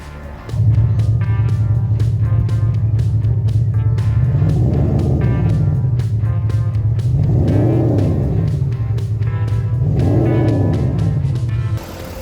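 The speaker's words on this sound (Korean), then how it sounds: "배기음 들어보시겠습니다." A 2012 Audi A7 3.0 TDI quattro diesel with dual mufflers and an RS7 body kit revs up, a steady close idle rumble rising in three swelling throttle blips, with no talking.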